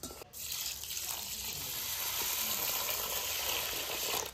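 Running water pours steadily into a vessel while a kilo of rice is washed for fish biryani, a continuous close gushing hiss with a brief knock at the start, no talk.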